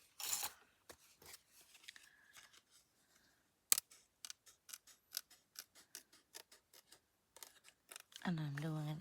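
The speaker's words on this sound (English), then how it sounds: "So now I need to cut it out of this." Scissors snip through fabric around slow stitching in short, crisp cuts, with a few louder clips and pauses, while someone talks intermittently over the work.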